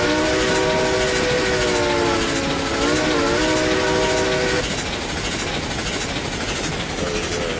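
A small locomotive runs at around 22 miles an hour in RailRoads Online, its steady rumble and rail clatter carrying a sustained multi-tone whistle that bends in pitch before cutting off, then the running noise continues alone.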